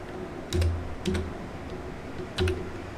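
A computer keyboard tapped in three short clusters of quick clicks entering a permit number, crisp and close in an otherwise quiet room.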